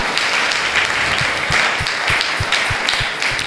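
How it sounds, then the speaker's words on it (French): A church congregation claps for Jesus at a special service, dense steady applause with a few cheers, loud and continuous throughout with no pauses. "On acclame pour Jésus."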